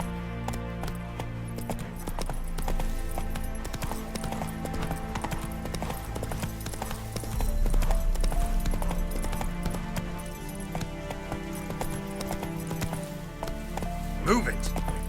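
In The Witcher 3: Wild Hunt, Roach the horse gallops with a quick, steady clip-clop of hooves under layered game music, and a voice speaks over it.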